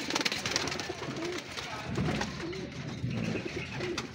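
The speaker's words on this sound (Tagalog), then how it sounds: "gandang kalapati pa naman to si Tatang" An old banded pigeon, about 15 years old, coos in low, repeated soft phrases close by, with faint background noise and murmuring around it.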